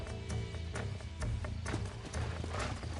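A horse's hooves clip-clop in Red Dead Redemption, a steady rhythmic series of hoof strikes at a walking pace, fairly faint against the game's ambient background.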